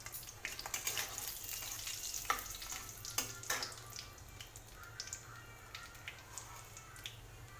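Whole cumin, panch phoron and cinnamon fry in hot oil and are stirred, giving a soft steady sizzle with occasional scraping clicks and pops, close but quiet.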